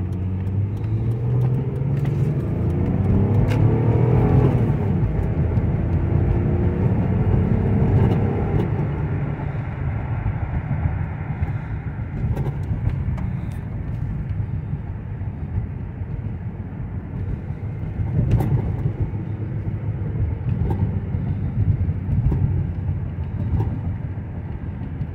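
A 2003 Hyundai Santa Fe V6 drives along, its steady low engine drone and road rumble filling the cabin with a slight swell in revs early on and no talking.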